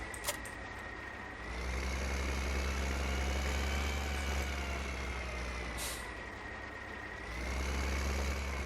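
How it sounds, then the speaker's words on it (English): A video game farm tractor's deep, steady engine drone rumbles continuously, with a brief hiss near the start and another midway, as the motor revs slightly up and down. "First time driving this tractor, I think it sounds pretty cool."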